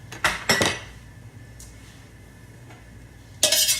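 Minced garlic stirred in a pan for shrimp fried rice: a couple of sharp metal scrapes and clinks near the start, a quiet stretch with faint sizzle, then another burst of loud scraping at the end.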